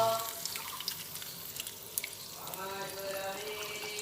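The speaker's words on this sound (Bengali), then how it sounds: "জলটা দিয়ে দিলাম এরপরে ভালোভাবে একটু নাড়াচাড়া করে নিচ্ছি" Potato and pointed gourd curry, Odisha style, is stirred in the pot after water goes in, giving a close watery hiss and sloshing with faint clinks, steady throughout with no clear talking.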